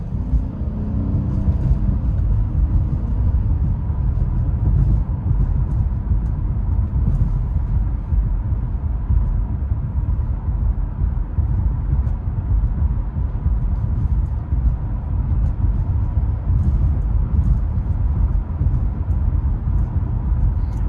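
Road and tire rumble inside a 2022 Honda Passport on 20-inch wheels driving over a bumpy road, a steady loud low drone with faint thumps from the bumps, no talking.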